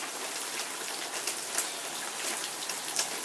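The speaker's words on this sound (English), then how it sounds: "this beautiful summertime shower with the thunder and the lighting and the rain" A summer rain shower falls steadily, a dense even hiss of raindrops striking surfaces with scattered brighter patters, moderately loud and continuous throughout.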